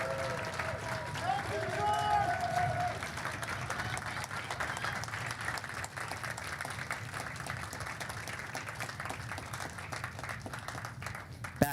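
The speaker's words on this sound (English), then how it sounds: "Can we get a round of applause for George?" Audience applause for George at a trading card game world championship event, a steady dense patter of clapping from a crowd, moderately loud and sustained, with a voice talking over it near the start.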